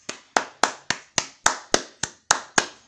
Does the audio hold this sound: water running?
no